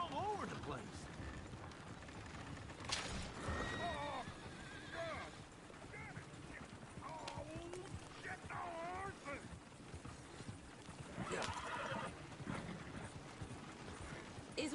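A horse whinnies several times amid busy background sounds and hooves in Red Dead Redemption 2, with a voice talking intermittently over the scene.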